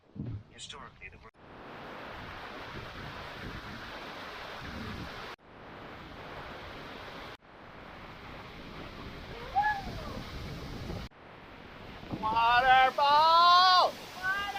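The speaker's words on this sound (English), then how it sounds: "Waterfall!" Waterfall beside a hiking trail in the foothills, a steady rushing hiss of falling water that cuts in and out in several stretches, with people talking over it near the end.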